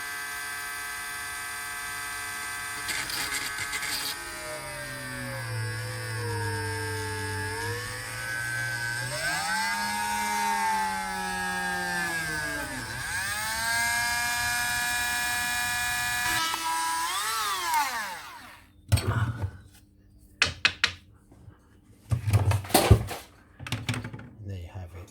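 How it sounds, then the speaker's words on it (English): A small cordless Dremel fitted with a tiny drill bit bores holes in a circuit board, its motor whining steadily with pitch dips as it bites, then stopping, followed by short clicks and handling knocks. "I'm using my Dremel with a tiny little drill bit on there."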